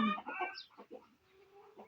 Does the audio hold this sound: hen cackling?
yes